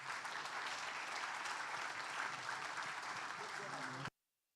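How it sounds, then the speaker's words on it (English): An audience at a coaches clinic in Harlingen applauds in a steady, dense burst of clapping that holds evenly for about four seconds and then cuts off abruptly into silence. "Let's give these guys a round of applause,"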